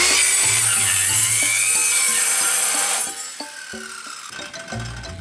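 A cheap Takagi EARTH MAN 165mm chip saw cut-off machine screams loudly through a cut, the high whine dropping off after about three seconds as the blade spins down with scattered clunks.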